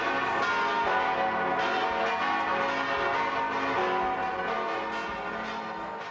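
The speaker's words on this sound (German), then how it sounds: "daher dieses Video mit dem einzigartigen Geläut aller 6 Glocken" All six church bells ring together in a full peal, including the large Herrgottsglocke, a dense overlapping clangor of strikes that fades slowly and steadily toward the end.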